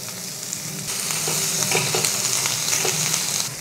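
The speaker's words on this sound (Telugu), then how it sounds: "ఈ ఉల్లిపాయని 2 నిమిషాలు వేయించుకోవాలి." Chopped onions frying in oil in a pan for a Telugu-style fish fry masala, a steady loud sizzle with stirring scrapes throughout, no voices.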